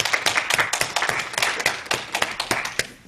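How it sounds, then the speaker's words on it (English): A small Sunday service congregation claps after a musical performance, a handful of distinct, close hand claps in an irregular patter rather than a dense roar. "let's give Gilbert Zachary a big round of applause for that"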